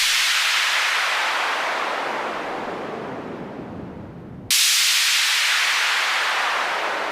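Sylenth1 software synthesizer sweep effect with resonance: a loud, broad noisy whoosh that gradually darkens and fades over several seconds, then cuts off abruptly and restarts bright and full.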